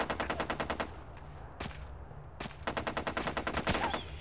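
Automatic gunfire in the video game SOCOM U.S. Navy SEALs Combined Assault: rapid machine-gun bursts of evenly spaced shots, loud and close, broken by a few single heavier shots before another long rattling burst.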